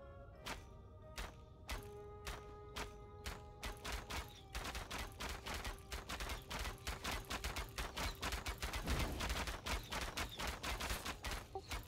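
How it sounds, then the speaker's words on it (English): Rapid machine-gun fire in a video game, a dense string of sharp shots that quickens into a steady rattle, with a sustained tone ringing underneath for much of the burst. "It sounds like I got a machine gun."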